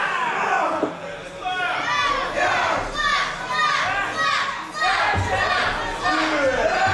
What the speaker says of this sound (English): As you can tell from the reaction of the crowd, it's their favorite part of the entire night every time Slammer gets in there.